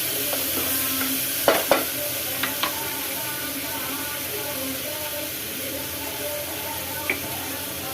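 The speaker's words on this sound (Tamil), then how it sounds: "அடுத்த தக்காளியும் போட்டு நம்ம வதக்கிக்கலாம்." Onions and tomatoes sautéing in a pan give a steady low sizzle, with a few clanks of stirring near the start and once more later.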